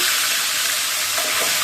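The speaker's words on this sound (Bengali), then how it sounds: "কড়াইতে তেলটা দিয়ে প্রথমে মাছগুলো ভেজে নিব।" Fish fry in hot oil in a wok, giving a steady, close, bright sizzling hiss that runs unbroken with no voices.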